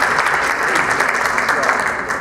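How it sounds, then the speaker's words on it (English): Sustained audience applause fills a breakfast session at a business summit, dense steady clapping from a roomful of people, fairly loud and unbroken throughout. "I would like to give a round of applause for this morning's breakfast sponsors"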